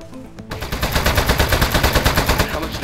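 Rapid automatic fire from the toilet gun in the video game Aperture Desk Job, a steady fast rattle of evenly spaced loud shots that starts abruptly after a short quiet lead-in and keeps going to the end.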